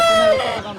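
Chickens at a busy poultry market, with a close, loud cluck and squawk that trails into a jumble of overlapping clucks and crowing from the surrounding birds.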